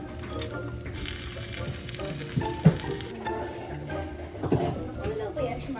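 Bacon and pepperoni fry in a pan in a home kitchen, a continuous close sizzle with occasional clinks and stirring knocks, while people talk over the crackle.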